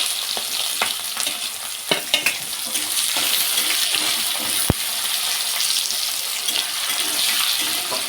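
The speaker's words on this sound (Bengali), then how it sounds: "পেঁয়াজটা একটু ভেজে নেবে" Onion sizzles loudly in hot oil with whole cumin and dried red chili in a pan for a tangra fish curry, the continuous frying punctuated by spatula taps and one sharp knock; no talking.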